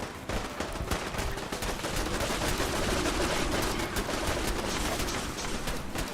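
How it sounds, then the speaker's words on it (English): Rapid gunfire from the video game Fallout 4, a dense, continuous crackle of shots and bursts that stays loud and steady throughout with no talking. "I hear gunfire."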